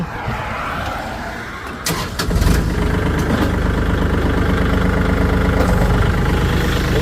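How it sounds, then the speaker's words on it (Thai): A Kubota L4018SP diesel tractor engine starts up after a brief clatter and settles into a steady, low idle that runs continuously at close range. "อ่ะฝังเสียงเครื่องยนต์กันนิดนึง"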